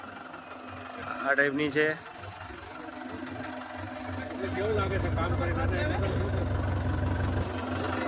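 A tractor engine rumbles low and steady on a beach during seaweed collection, growing heavier in the second half beneath near conversation.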